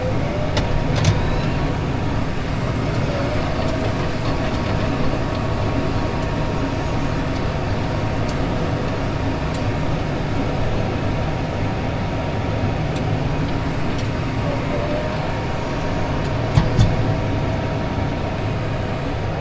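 A tractor pulling a disc mower cutting second-crop hay in a field, a continuous steady engine drone from inside the cab with a few faint clicks and knocks on top.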